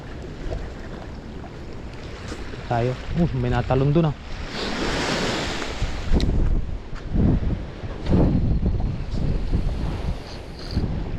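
Ocean waves breaking on a shore surge and wash in repeated swells amid heavy wind buffeting the microphone, with people talking at moments over the surf.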